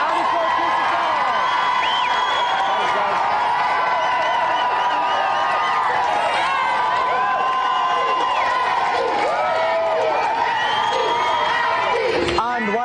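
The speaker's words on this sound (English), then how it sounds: "A round of applause again for our two special guests tonight, Andy Keller." A television studio audience at a video game show claps and cheers continuously for two special guests, a dense, steady wall of applause and whoops with a presenter talking over it.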